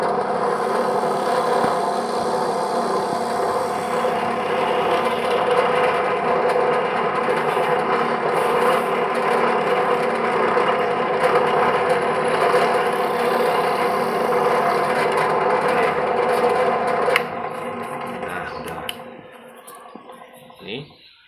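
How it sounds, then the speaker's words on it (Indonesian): A drill bores into wood, a steady, loud whine running continuously for about seventeen seconds, then winding down and stopping, leaving a few faint clicks. "Kita bor dulu."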